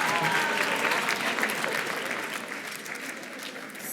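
An audience at an evening gathering honoring Armenian women breaks into warm, continuous applause, loud at first and easing slightly as it carries on, with some faint voices mixed into the clapping.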